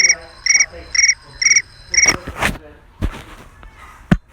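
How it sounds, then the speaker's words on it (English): The iPhone crickets ringtone plays five evenly spaced, bright chirps in a row, followed by a few soft clicks and taps. "crickets."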